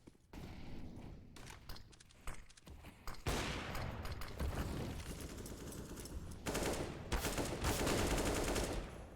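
Pistol gunfire in a competitive Counter-Strike match on the Mirage map, heard as dense, loud bursts of rapid shots and clattering volleys stacking over one another throughout.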